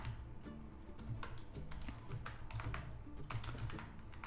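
Keys clatter steadily on a computer keyboard while options are typed into a Padlet poll, a close, continuous patter of taps over a low background hum, with no speech.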